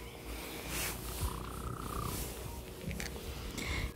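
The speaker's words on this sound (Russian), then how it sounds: "Он урчит, как танк." A large cat, likened to a Garfield, purrs loudly and steadily up close, a continuous rumbling drone with faint rustling and no speech over it.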